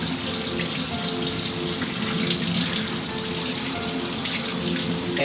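Hands being rinsed under a running kitchen faucet produce a steady, close hiss of tap water splashing into the sink, continuous throughout with no talking.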